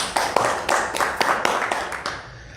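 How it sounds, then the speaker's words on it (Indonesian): A short run of about eight distinct claps in a loose, slightly uneven rhythm, close and fairly clear, fading out after the last one. "Tepuk tangan."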